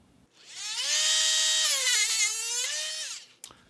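A Dremel rotary tool cuts through the rails of an old model railway turnout, giving one loud, sustained high-pitched whine of about three seconds that bogs down slightly in pitch partway through, then stops with a short click.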